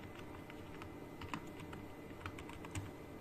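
Soft, quick keystrokes tap on a computer keyboard in an irregular, continuous rhythm, close and fairly quiet, while shop menu text is entered during a Shopify store setup, with no talking.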